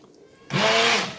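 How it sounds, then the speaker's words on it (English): A stick blender starts up in a pot of hot curried cream of vegetable soup, a sudden loud whirring hum that runs steadily after a brief quiet lead-in. "she would have used a stick blender as well. So, I'm going to blend the soup up."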